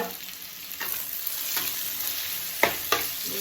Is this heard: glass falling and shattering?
no